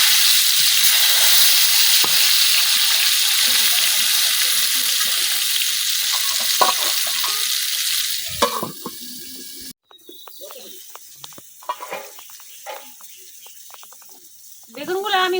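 Eggplant slices fry in a pan with a steady, loud hiss that fades after several seconds, leaving a quieter sizzle broken by light utensil clinks and scrapes.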